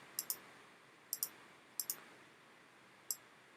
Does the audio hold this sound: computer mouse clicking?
yes